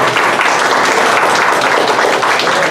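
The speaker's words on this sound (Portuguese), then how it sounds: "Salva de palmas aí, pessoal." Sustained, loud applause from a seminar audience in a meeting hall as a speaker is invited to the table, many hands clapping steadily and evenly throughout.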